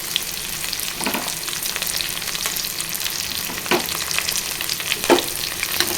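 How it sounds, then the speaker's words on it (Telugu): Chopped onion and green chili pieces sizzle steadily in hot oil for an ivy gourd fry, with a few louder bursts from stirring. "ఇప్పుడు ఉల్లిగడ్డ ముక్కలు వేసేసుకోవాలండి. పచ్చిమిర్చి ముక్కలు కూడా వేసుకోవాలండి."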